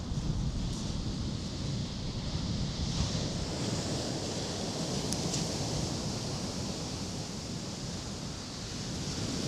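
Sea waves at high tide wash against the shore in a steady, soft rushing roar with some wind buffeting the microphone, fairly faint and continuous with no voices.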